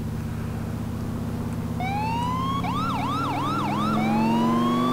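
Ambulance siren in the police video game LCPDFR, starting as a rising wail then switching to a fast yelp and back to a long wail, loud over a steady low engine rumble, with no talk.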